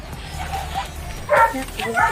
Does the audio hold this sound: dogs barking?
yes